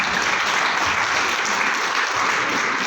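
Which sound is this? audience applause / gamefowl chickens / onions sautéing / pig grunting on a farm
audience applause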